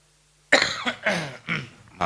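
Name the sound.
cough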